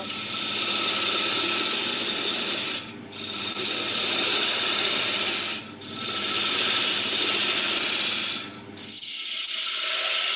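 A wood lathe turning at 1000 RPM cuts with a continuous rasping, chattering scrape. It is close and steady, broken by three short pauses, and stops near the end.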